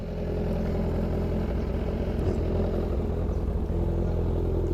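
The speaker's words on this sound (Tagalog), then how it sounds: "papainit tayo ng makina" A Kawasaki Z1000R motorcycle engine idles while warming up, giving a loud, close, continuous low rumble that stays even throughout with no talking.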